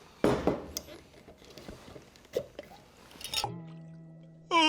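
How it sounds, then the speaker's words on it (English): Fabuloso liquid cleaner is poured into a jar, with soft splashing and dripping trickles close by, then a short sustained ringing tone near the end. "We're gonna open a jar. I'm gonna pour."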